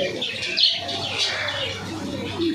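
Pigeons at a pigeon seller's house give soft cooing and chirping calls with a brief flutter of wings, close and moderately loud over light background noise.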